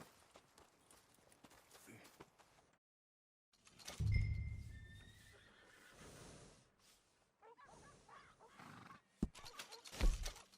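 A horse whinnies clearly in the video game Red Dead Redemption 2, with a short hoof thud or two and faint rustling in a quiet setting.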